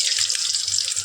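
Water is poured into a hot pan of tempered sesame seeds and curry leaves while cooking moraiya dhokla, a brief steady hissing gush heard alone and close.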